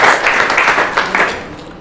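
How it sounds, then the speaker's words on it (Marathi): A quiz audience gives loud applause for a correct answer, with several bursts of clapping close and strong that fade toward the end. "जोरदार टाळ्या होत्या त्यांच्यासाठी"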